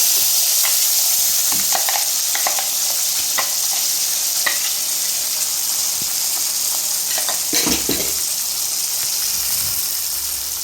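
Ground masala paste for a paneer curry is poured into a hot pan and sizzles with a steady, close hiss, broken by scattered stirring scrapes and spatters.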